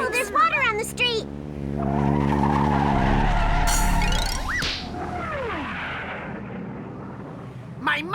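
A cartoon car brakes hard on a wet street with a long, loud tire skid and screech, followed by a swooping whoosh, with voices speaking over the commotion.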